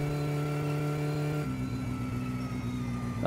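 A car engine drones steadily while driving in the video game My Summer Car, with a tonal hum that drops in pitch partway through as the gear or throttle changes, loud and continuous, with no talking.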